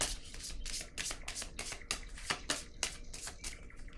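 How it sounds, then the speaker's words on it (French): Tarot cards being shuffled and drawn by hand, a quick run of close, crisp riffling flicks and paper slaps in steady rhythm, with no talk. "je vais piger une autre carte"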